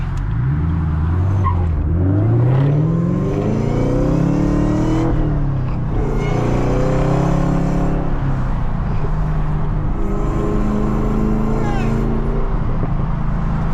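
A manual Camaro ZL1 with a supercharger, recorded from inside while driving: the engine revs climb and fall repeatedly through the gears in a loud, continuous drone, with faint voices now and then.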